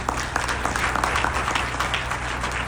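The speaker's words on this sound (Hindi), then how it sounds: "एक बार जोरदार ताली इसके लिए" An audience at a leadership summit in Agra claps in a dense, steady round of applause at moderate volume, with scattered sharper hand claps standing out.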